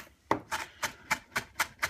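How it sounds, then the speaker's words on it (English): A knife chops the ingredients for zhug, a Yemenite pepper paste with coriander, on a board: seven close, crisp taps in an even, quick rhythm. "now that we have it mashed and mixed a little bit, we're going to do a little bit more chopping"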